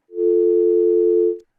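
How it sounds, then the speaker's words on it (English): A telephone dial tone on a radio show phone line: a single loud, steady pure hum lasting just over a second, starting and stopping cleanly with nothing else around it. "You got a dial tone, you call out, and people call in, and they can't hear each other"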